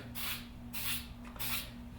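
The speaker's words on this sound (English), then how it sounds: "apply a light spray of skin toughener" Skin toughener spray is applied lightly to an athlete's shoulder before taping, in three soft, evenly spaced hissing bursts over a quiet low hum.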